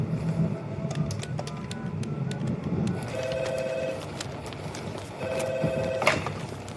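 Telephone ringing while a call is placed, with two electronic ring bursts heard over a quiet room and background hum, moderately close.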